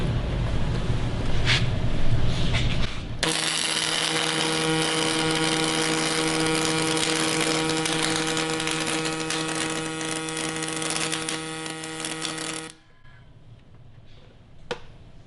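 A Miller 255 Pulse MIG welder lays a bead with .045 wire on quarter-inch metal under 90-10 shielding gas, a steady buzzing hiss that starts abruptly, holds evenly for about ten seconds, then cuts off.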